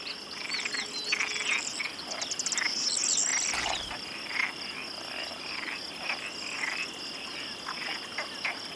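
Mediterranean tree frog croaking amid a dense, steady chorus of chirping insects, with short repeated calls standing out near the middle, all outdoors and fairly close.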